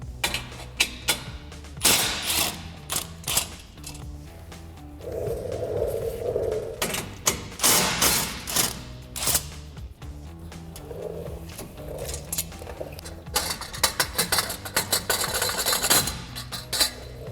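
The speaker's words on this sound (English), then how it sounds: "So I'm going to grab a 16mm socket to remove these two bolts." A ratchet with a 16mm socket works on the bumper bracket bolts of a Jeep Gladiator JT, giving bursts of clicking and metallic clanks with short pauses, close and clear without talk.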